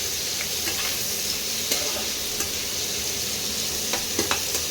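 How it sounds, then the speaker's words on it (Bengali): Onions for a mutton curry fry in hot oil, giving a steady, fairly loud sizzle throughout. Occasional short scrapes and clicks of stirring sound over the frying, and nobody speaks. "সোনালি রং অবধি পেঁয়াজগুলো আমি ভেজে নিচ্ছি"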